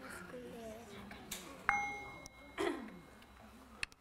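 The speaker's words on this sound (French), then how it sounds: "Et le demi-son de la cloche." A mindfulness bell struck softly for a half sound, one clear metallic ding ringing out briefly, followed by a second lighter chime, with quiet breathing guidance spoken around it.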